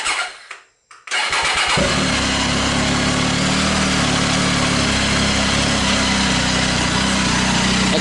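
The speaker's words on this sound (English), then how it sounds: "I'll start the bike with the baffle in and I'll pull it out while it's running so you can maybe hear the difference." A 2019 Triumph Tiger 800 XRT fitted with a Fuel Diablo carbon muffler, baffle in, fires up after a brief pause and settles into a loud, steady, throbbing idle with no talking.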